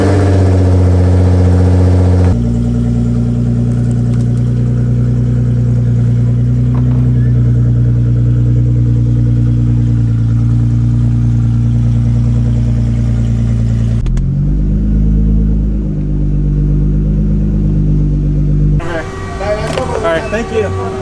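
A Nissan GT-R engine runs steadily, loud and close, as the car is being moved, holding a low idle with slight revs and a brief dip near the end before a clatter of other noise.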